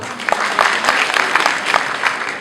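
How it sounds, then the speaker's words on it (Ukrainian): An audience at an awards announcement for an autumn festival claps, producing a short, dense burst of applause from a room full of people. "слово скороходові Інні, ваші оплески"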